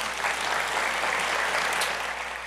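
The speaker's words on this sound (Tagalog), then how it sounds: "Lahat nga ng natutuwa ay pumalakpak ng malakas." Loud, steady congregational applause during a church morning service, a dense wash of many hands clapping continuously with no talking over it.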